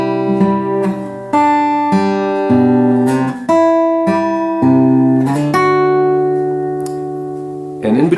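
An acoustic guitar plays the slow chord transition from the chorus of a song, with several strummed chords ringing out in sequence, each sustaining before the next change, close and clear with no talking.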